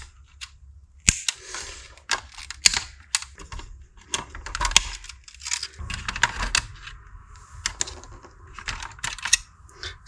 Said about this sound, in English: Okay, so let's go ahead and do some snipping.